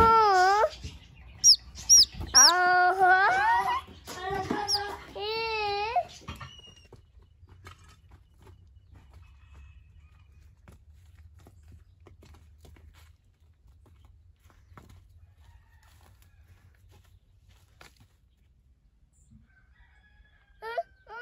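On a ranch, a chicken gives several loud rooster-like calls in quick succession at the start, then a long quiet stretch with faint background noise and a brief call near the end.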